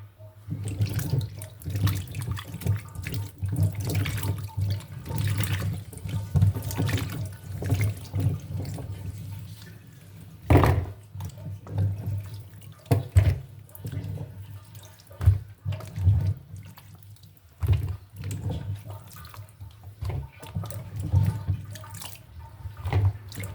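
Running tap water splashes steadily over a bottle gourd as it is washed in a kitchen sink, with close, continuous pouring and occasional louder splashes and handling knocks, no talk.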